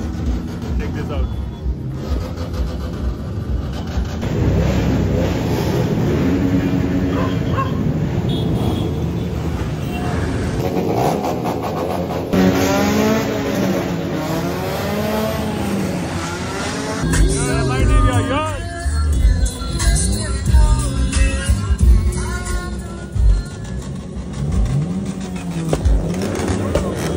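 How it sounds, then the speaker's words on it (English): At a college auto show in Kundapur, motorbike engines rev and scream in rising and falling bursts amid a loud, chaotic outdoor crowd. A person talks throughout over the engine roar and babble. "Gotta say the bikers are more excited than the car guys. They're burning tires like anything."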